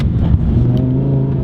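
A Lamborghini engine revs up hard close by, a loud steady mechanical roar that climbs in pitch over a second and a half.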